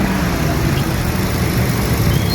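Engine of a used car idling with the hood open, a steady low rumble that runs loud and close throughout without a break.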